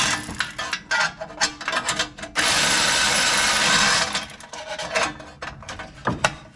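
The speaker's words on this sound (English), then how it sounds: "So I'm just going back around and tightening these up now." Bolts being tightened on a Craftsman MTD snow blower during a no-spark repair, giving close, loud clicking ratchet strokes in quick bursts with a long steady rasping stretch in the middle; no one speaks.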